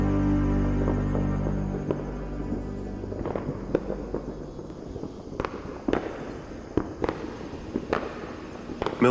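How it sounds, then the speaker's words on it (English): Explosions from a German bombing run in a film, heard as a series of sharp distant bangs and booms scattered across the clip over a low steady rumble, with no talking. "the air boys start their German bombing runs today"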